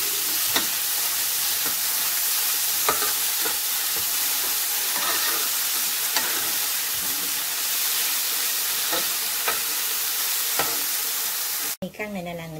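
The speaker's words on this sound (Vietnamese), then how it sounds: "Thế là mình chỉ xào cho cái mì căn này nó nóng lên và nó có một tí gia vị thôi" Seitan (mì căn) stir-fried with seasoning in a pan makes a steady sizzle with scattered clinks and scrapes from stirring, then cuts off abruptly near the end.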